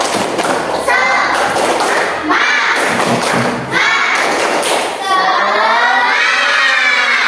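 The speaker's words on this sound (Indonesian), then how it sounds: "Bisa tepuk semangat? Bisa ya, tepuk semangat." A class of third-grade children in an Indonesian school performs a rhythmic clapping chant, bursts of sharp claps alternating with loud shouted unison voices, close and energetic, ending in a sustained group shout.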